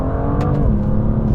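A 2018 BMW M2 Black Shadow Edition with a double-clutch gearbox pulling hard from a rolling start at about 20; a loud, close engine note rising steadily, with a brief quick shift blip partway through.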